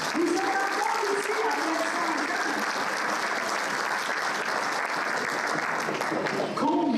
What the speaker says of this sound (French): Applaudissez-vous, mesdames.